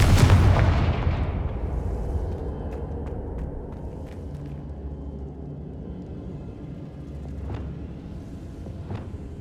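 A Confringo blasting spell in the Hogwarts Legacy game bursts with a deep booming explosion that rumbles and fades over several seconds, with faint sharp crackles trailing after.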